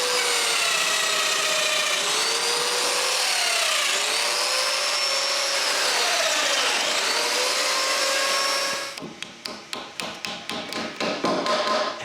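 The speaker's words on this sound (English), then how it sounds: "After marking where to drill domino mortises, I drill them." Domino mortises being cut into solid wood: a steady, high-pitched whine of the machine plunging for about nine seconds, then a run of rapid, sharp tapping and rattling bursts at close range.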